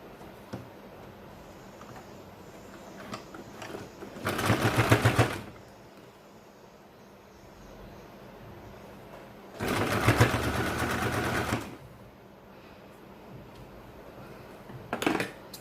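A sewing machine stitches a baby circle frock in two bursts of about one and two seconds with a quiet pause between, followed by a brief third spurt, against a low room background.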